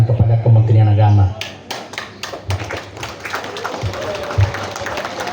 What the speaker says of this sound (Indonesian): Karena sudah 3 kali tepuk tangan